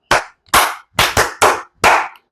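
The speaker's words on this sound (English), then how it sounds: "Clap for them." Six distinct, loud, close claps in an uneven rhythm, some paired quickly, sounding like a small group clapping together in a classroom-style cheer after a talk about the 1969 Apollo Moon landing.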